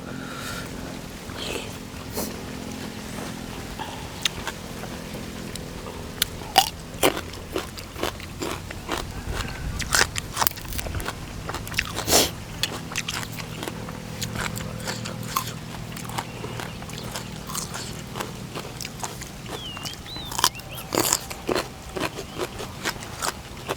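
Someone bites into and chews a crunchy, spicy salad of oysters in thick dressing with bird's eye chilies. The sharp crunches come in irregular bursts close to the mic over a quiet background.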